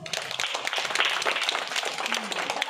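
A classroom of young first-grade children clapping together, a dense, steady patter of many small hands close by that carries on throughout without pause.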